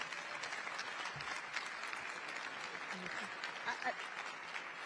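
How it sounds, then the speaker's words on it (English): An audience claps in sustained, dense applause at a Financial Braintrust conference session, filling the room evenly for several seconds while a voice speaks faintly underneath. "Give them a big round of applause."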